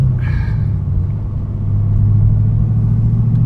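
A Chevrolet SS car engine of about 600 horsepower hums low and steady, its pitch dipping slightly during a shift into third gear before settling into a stronger drone, heard from inside the vehicle.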